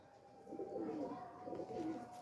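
A pigeon coos softly in two low, throaty phrases, close by in a quiet setting.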